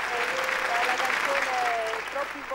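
Audience applause at a televised Neapolitan music show, a steady dense wash of clapping over a live broadcast setting, with a voice or tones faintly audible through it.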